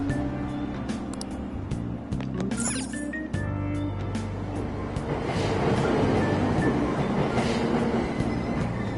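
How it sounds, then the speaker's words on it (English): Train at a station in Persona 5 Royal, a loud, close rumble of railcars with rattling and clatter, briefly joined by high squeals, then a steady roar as the train pulls away. "Train doors are now closing. Please stand back."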